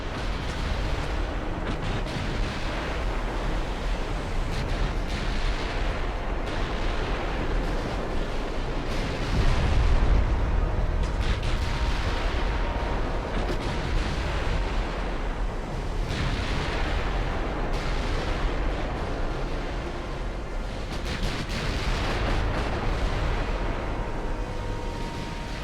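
In the naval strategy game Ultimate Admiral Dreadnoughts, ship guns keep firing in dense, rumbling bursts over a constant roar, with one heavier boom near the middle and no talking.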